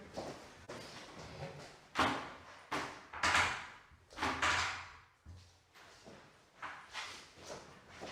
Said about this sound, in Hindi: ठीक है ठीक है दरवाजा बंद कर दिया